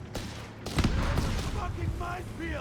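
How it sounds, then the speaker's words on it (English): A mine detonates during a Company of Heroes 3 battle amid gunfire. Sharp blasts crack early on, followed by a rumbling burst, and a voice speaks faintly toward the end. "Mine goes off there somewhere."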